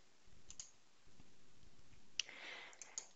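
Faint computer mouse clicks on a software button while working in STAAD.Pro structural engineering software, a few soft isolated ticks spread over a quiet background with light hiss.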